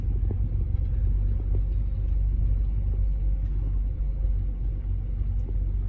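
A manual car pulling away gently in first gear with light throttle, its engine giving a steady low, loud rumble with slight variations, no talk.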